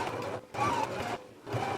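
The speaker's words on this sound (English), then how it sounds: "Go ahead and take it to your machine and sew it on now." A sewing machine stitches a waistband onto a garment in three short close bursts separated by brief stops.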